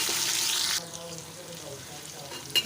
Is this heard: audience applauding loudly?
no